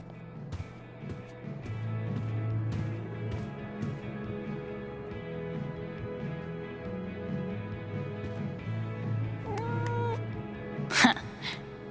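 A cat meows in the video game Life is Strange True Colors, a rising whiny call near the end over steady game music and ambience.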